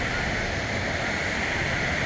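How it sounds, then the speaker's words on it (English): Steady rushing of running water from a waterfall ahead along a river at Historic Bridge County Park near Marshall, Michigan, a continuous broadband roar that holds evenly throughout without pauses. "So I hear some water running, so maybe we're coming up to this waterfall."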